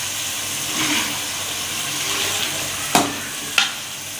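Boiled moringa stirred into chicken masala in a pan gives a steady sizzle and frying hiss, with two sharp clacks of the spoon against the pan near the end.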